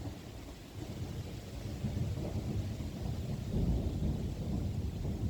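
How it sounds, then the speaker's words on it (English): Thunder played as a sound effect during a live drawing stream: a steady low rumble that swells and rolls continuously, fairly loud, with no talking over it. "thank you for the thunder, Hemlock"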